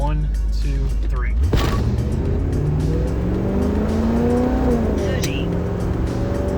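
A 1986 Pontiac Trans Am accelerates hard from a standstill with its tire spinning. The engine note climbs loud and close through the gears, and a voice talks over it.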